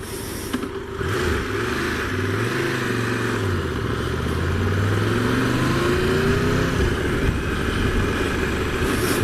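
Triumph Tiger 1200 GT Pro motorcycle engine revving up and pulling away, with a steady loud engine note rising and falling in pitch over several seconds, close by with road noise.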